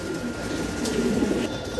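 Many pigeons coo at a loft of breeding birds, a low, overlapping murmur of calls running steadily throughout with no voices.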